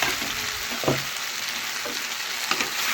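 Vegetables fry in a pan, giving a continuous soft hiss with a few faint scrapes of stirring spaced through the sound.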